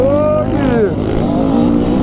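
A trail motorcycle at a huge trail-riders' gathering accelerates hard nearby, its engine note climbing and wavering in a loud, continuous rev with faint voices mixed in.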